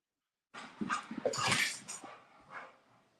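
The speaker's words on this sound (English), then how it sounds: "That's my dog." A dog whimpers and whines close up, a run of short high-pitched cries and soft nasal whines lasting a couple of seconds after a moment of silence, with faint panting and no talking.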